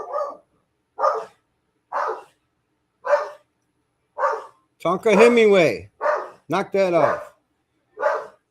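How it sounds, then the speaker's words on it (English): A guard dog barks and yips in short bursts between stretches of indoor talk, the barks close and fairly loud, with a voice cutting in to scold it. "Dog sounds mad."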